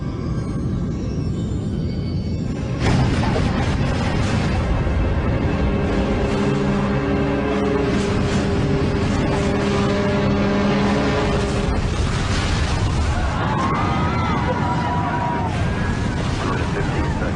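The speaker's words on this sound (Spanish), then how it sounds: "el Challenger queda envuelto en una enorme bola de fuego" A huge, roaring blast as the space shuttle Challenger explodes into a fireball swells into a long, rumbling, crackling roar that fills the scene, with faint voices underneath.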